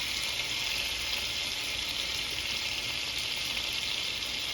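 Shrimp sizzle in a lemon butter sauce as a steady, even frying hiss, close and constant throughout with no stirring or voices.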